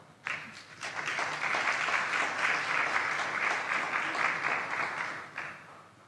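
An audience at a conference plenary session applauds as a speaker is brought to the stage, a sustained wash of many hands clapping that swells quickly, holds steady for several seconds, then tapers off.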